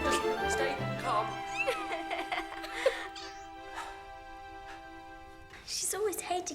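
A cat meows several times in short rising and falling cries, close and fairly loud, mixed with people talking and some laughter.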